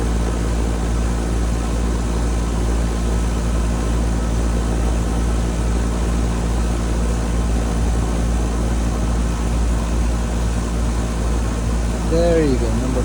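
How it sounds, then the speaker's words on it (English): A car AC system running steadily after a refrigerant leak repair, a constant low humming drone with a broadband whoosh and no change in level, with a brief chirping near the end. "So this unit now is running in a perfect shape after fixing a leak."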